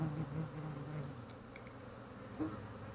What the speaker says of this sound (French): Les abeilles sont très réticentes à la Flow Hive.